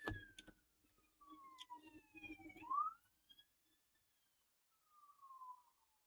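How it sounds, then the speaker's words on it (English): A siren wails and sweeps in pitch as an emergency vehicle passes by at a distance, fading out then briefly returning faintly. "some sirens gonna be going by here in a second."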